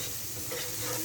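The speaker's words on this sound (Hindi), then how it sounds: "अब यहाँ 1 मिनट के लिए मैंने मसाले को अच्छे से फ्राई कर लिया" Spices frying in a pan for okra chutney, a brief close hiss and sizzle with light stirring, steady and without voices.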